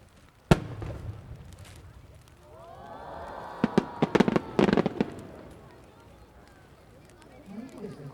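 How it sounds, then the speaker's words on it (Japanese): Senrin fireworks burst at a fireworks expo on Osaka's Nishikinohama beach: a sharp launch boom, then a cluster of rapid crackling pops and sizzling, with a crowd murmuring and a voice speaking throughout. "こちらは大きな玉の中に小さい玉が散りばめられていて、それぞれ技術で演出されているという花火でございます。"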